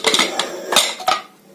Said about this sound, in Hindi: जब ये कुकर ठंडा हो गया, गैस इसका निकल गया, तब मैं इसे खोल रही हूँ।